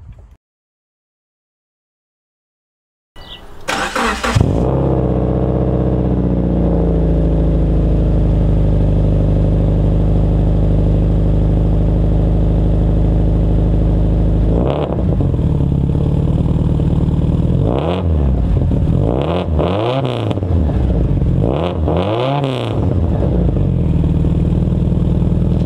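After a moment of silence, a Subaru car engine cranks and catches after coolant bleeding, then idles loudly and steadily, with a few revs swelling and dropping near the end.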